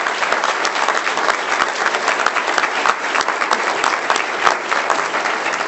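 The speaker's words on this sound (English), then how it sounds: "So let's give her a big round of applause." A school board meeting audience gives loud, sustained applause, a dense continuous clatter of many hands close by with no talking over it.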